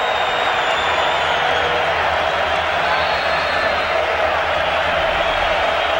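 A huge Michigan Stadium crowd of over a hundred thousand roars during a 1997 Notre Dame at Michigan college football game, a steady, dense wash of cheering that holds the whole time.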